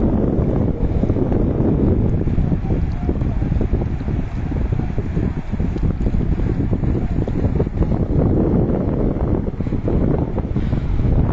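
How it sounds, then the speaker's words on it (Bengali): Tidal water rushes in through a breached river embankment at Deluti, a loud, continuous churning roar with wind buffeting the microphone, steady throughout with no clear pauses. "আপনারা যদি দেখবেন পানির কি আওয়াজ"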